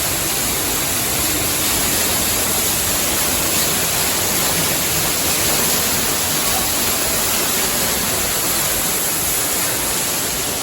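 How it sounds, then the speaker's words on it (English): Steady broadband rush of a waterfall near a small bridge at the Canada pavilion in Epcot, continuous and fairly loud, with no talking over it. "digging the waterfall"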